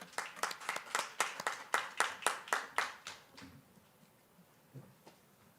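Brief round of clapping for graduates at a 2020 graduation ceremony, a dozen or so sharp claps in a steady rhythm that fade out after about three seconds, leaving a quiet room.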